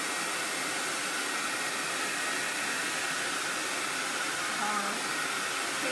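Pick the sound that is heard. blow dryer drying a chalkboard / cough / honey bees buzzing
blow dryer drying a chalkboard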